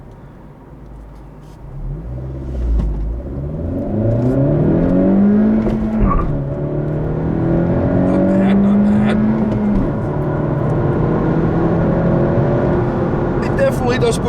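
A 2017 Honda Civic Hatchback Sport pulls away from a stop with a rising engine note that climbs through the revs, drops at a gear change and climbs again, heard from inside the cabin with a brief spoken comment partway through.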